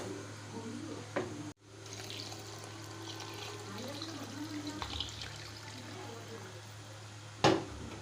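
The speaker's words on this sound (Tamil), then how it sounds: "இப்போ இதில் நம்ம தேவையான தண்ணி ஊற்றிக்கலாம்" Water pours and trickles steadily into a pot of mutton biryani being cooked, with a couple of sharp knocks and clinks along the way.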